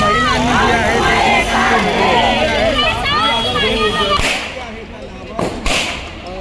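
Firecrackers pop at a women's celebration on 15 August, a few sharp bursts breaking out near the end over a dense, loud crowd of voices and cheering.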